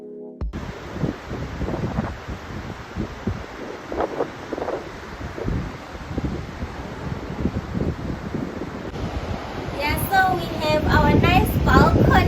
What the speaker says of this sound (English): I honestly don't know if you can hear me, it's so windy